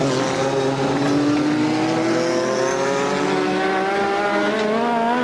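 Nigel Mansell's Formula One car on a practice lap at the 1986 British Grand Prix, its high-pitched engine screaming loudly and continuously as revs climb steadily through the gears, heard close with no talk.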